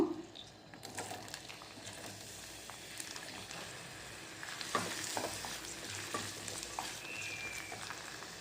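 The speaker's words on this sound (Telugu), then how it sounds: "ఇప్పుడు ఇందులో ఉల్లిపాయ పచ్చిమిర్చి వేసి ఫ్రై చేసుకుందాం" Onion and green chillies frying in hot oil in a pan, a low, even sizzle with faint stirring and scraping, fairly quiet and continuous, without speech.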